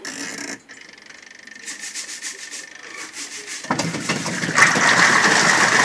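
A washing machine is switched on and starts running, beginning with a brief hum and moving into a steady, loud rubbing and whirring churn that grows rougher toward the end.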